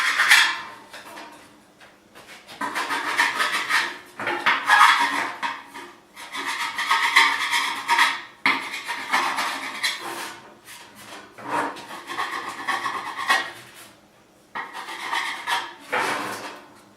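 A hand file rasps back and forth over a rusty corrugated metal backsplash panel in repeated scraping strokes of varying length, loud and close with short pauses between passes.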